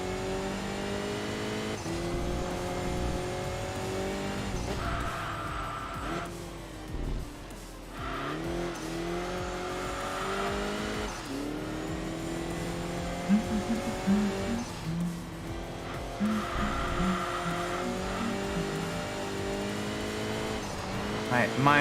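Race car in the Enthusia Professional Racing video game, engine revving up and down through repeated gear shifts with bursts of tire squeal in corners, loud and continuous under intermittent talk.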